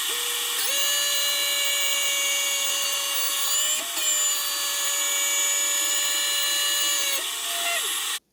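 A Sparx skate sharpener runs steadily on the inside edge of a goalie skate blade, giving a loud, sustained high whine with a fixed pitch and brief shifts as the grinding passes along the steel, then stopping abruptly.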